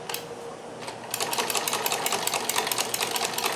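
A Necchi Supernova sewing machine with an industrial straight-stitch buttonholer attachment stitches a buttonhole, a fast, steady mechanical chatter that starts softer, then runs louder and evenly close up.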